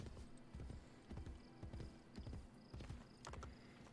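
Horse hooves clip-clop in a steady trotting rhythm while riding in Assassin's Creed Brotherhood on PS4. The hoofbeats are close and even, with faint game ambience behind them.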